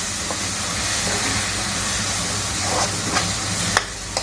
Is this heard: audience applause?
no